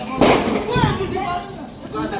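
A firecracker bomb bursts during outdoor Diwali celebrations with a sharp loud crack, then a second, softer pop, while people talk nearby throughout.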